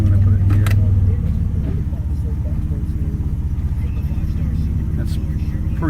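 A 1989 Turbo Trans Am's Buick V6 idles with a steady low rumble throughout, loud and close, with no one speaking.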